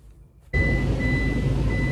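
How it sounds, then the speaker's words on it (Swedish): A motorhome idling on a wintry road sounds a steady, continuous electronic alarm tone that starts abruptly after a brief quiet moment and holds loud over the engine's low rumble. "Det borde ju vara liksom möjligt att stå på tomgång utan att det är ett larm"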